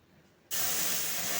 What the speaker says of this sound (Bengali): কড়াইতে ঘি দিয়ে 1-2 চামচ চালের গুঁড়ো দিয়ে দিলাম। ভালো করে ভেজে নিয়ে একটু দুধ দিলাম